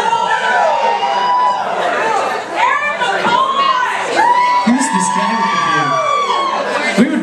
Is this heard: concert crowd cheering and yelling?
yes